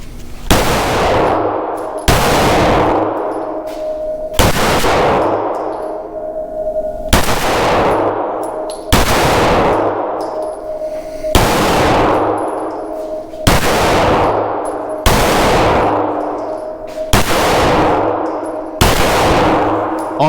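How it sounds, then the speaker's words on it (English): Ten loud pistol shots from a non-compensated Echelon pistol at an outdoor range, each a sharp crack followed by a metallic target clang and ringing echo, evenly spaced about two seconds apart. "It's my turn to shoot now."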